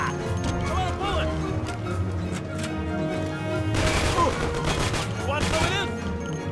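Gunfire in the Mafia video game: dense, continuous bursts of shooting layered over a busy mix of game music and effects, with a shouting voice breaking through partway, loud and steady throughout.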